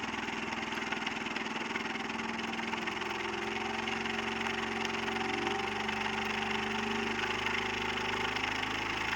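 A steady motor hums continuously with a droning mechanical tone and faint vibration, running evenly throughout with no voices.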